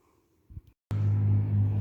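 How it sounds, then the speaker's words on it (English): An International pickup truck climbs a hill. After a brief quiet start its engine cuts in with a steady, deep, fairly close rumble that holds to the end. "you can hear the International going up the hill"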